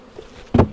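Honey bees on frames pulled from a hive during honey extraction, a low buzzing hum followed by two louder close bursts of buzzing.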